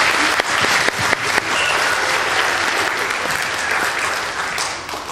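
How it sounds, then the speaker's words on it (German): Audience applause at a children's university event, loud, dense clapping from a crowd that starts strong, holds steady, and gradually thins toward the end. "für den tollen Applaus, den ihr uns hier gebracht habt"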